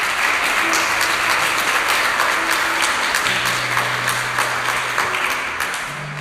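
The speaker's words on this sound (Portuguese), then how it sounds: "Pode aplaudir a palavra." A church congregation bursts into sustained applause during a sermon, dense and loud, holding steady for several seconds before easing off slightly at the end.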